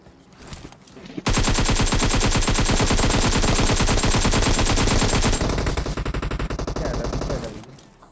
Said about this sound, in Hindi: पीछा तो क्या मतलब गोली बुरी तरह चलाते बग्गी वाले पे